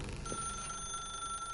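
Old-style telephone bell ringing in the video game The Stanley Parable; a steady, faint electric ring held under a low background hum for a brief moment.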